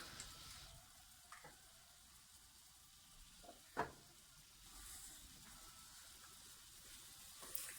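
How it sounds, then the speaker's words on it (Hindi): Large chicken drumstick and thigh pieces, scored with cuts, going into a pot of water at a rolling boil; a steady bubbling hiss with a few soft splashes and one sharper plop midway. "तो इसको उबाल आ चुका है, तो इसमें अब हम चिकन डाल देंगे।"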